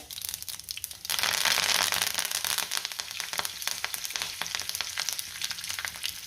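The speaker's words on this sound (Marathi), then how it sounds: "तेल गरम झाले, त्यामध्ये मोहरी घालूयात। त्यातच आपल्याला उडीद डाळ घालायची आहे, कढीपत्ता घालूया" Mustard seeds, urad dal and curry leaves crackle in hot oil for tomato chutney: a loud burst of sizzling about a second in, then dense, continuous popping and sputtering close by, with no voices.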